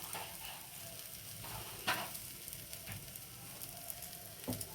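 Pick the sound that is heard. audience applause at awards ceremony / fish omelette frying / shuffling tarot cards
fish omelette frying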